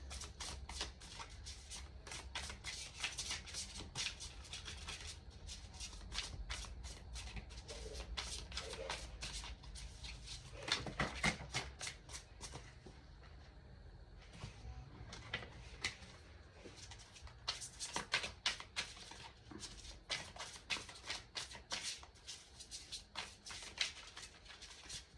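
A deck of tarot cards is shuffled and handled by hand, giving repeated crisp riffling bursts and soft slaps at close range, pausing briefly before the rapid flutter resumes.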